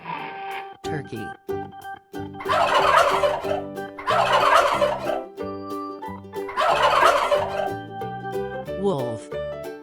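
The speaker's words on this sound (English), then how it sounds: "Turkey." A turkey gobbles loudly and close, three rapid rattling bursts separated by short pauses, with softer clucks in between.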